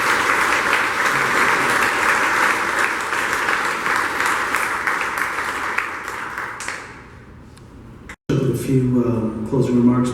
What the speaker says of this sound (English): Everybody, round of applause for Bjorn.